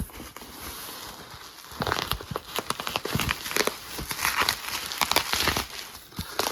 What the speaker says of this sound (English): So we've got some bubble wrap